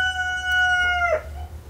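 A rooster crows once, a loud, clear call on its own that ends in a short downward break.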